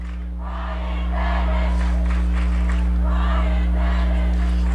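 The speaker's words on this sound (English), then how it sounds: "And now their crowd cheering Ryan Dennis's name" A high school football crowd at a Doherty Highlanders versus Fitchburg Red Raiders game roars after a touchdown, the cheering swelling within the first second and then holding loud and steady over a constant low hum.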